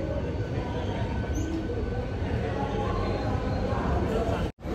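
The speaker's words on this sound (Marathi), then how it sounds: "ही जी ट्रेन आहे आपली तर ही निघणार आहे दादरवरनं 12:45ला" Steady rumbling of a train at Dadar station platform with constant wheel and engine noise, faint chatter mixed in, and a brief high squeal.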